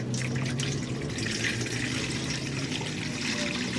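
Water running steadily from a turned pipe tap into a bowl, a constant trickling and splashing flow with scattered drips, close and fairly quiet with no talking.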